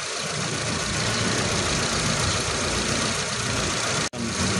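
A car engine idles steadily and loudly up close after its maintenance-free battery has been refilled, a constant rough hum with a single brief dropout near the end.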